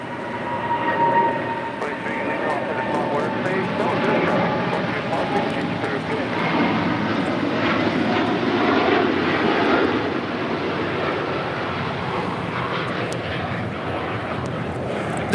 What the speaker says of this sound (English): This is KLM 602 taking off to Amsterdam on a 787-10 Dreamliner.